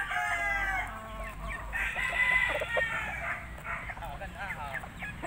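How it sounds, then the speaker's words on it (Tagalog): A fighting rooster crows close by, followed by softer clucking, with faint background noise. "Ito ang pansabong na manok namin para Ugma Derby Championship"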